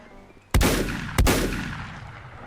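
Two loud, close gunshots in the video game Volcanoids, fired about half a second apart, each with a sharp crack followed by a long booming tail that fades away.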